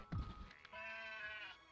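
Sheep in the video game Craftopia give a single drawn-out bleat after a brief thump, close and clear over faint game ambience.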